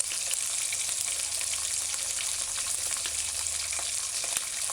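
Ham frying in a pan for a Jamaican ham and egg sandwich, a steady bright sizzle with faint crackles and spits, close and continuous, with no talking.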